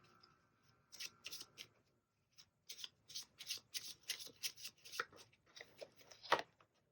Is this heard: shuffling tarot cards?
yes